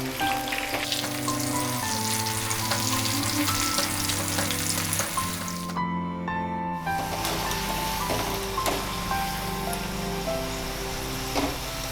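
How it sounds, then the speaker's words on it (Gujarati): Sweet potato french fries frying in oil over a medium flame give a steady, dense sizzle and crackle throughout, briefly muted for a moment and then resuming at full strength. "ફ્રેન્ચ ફ્રાઈઝ લાઇટ બ્રાઉન કલરની થાય ત્યાં સુધી આપણે તેને મીડિયમ ફ્લેમ પર જ તળવાની છે।"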